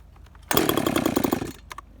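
A ported Husqvarna 350 chainsaw with an 18-inch bar and .325 full chisel chain revs up sharply, buzzing loud and close for about a second before dropping back to a rough idle.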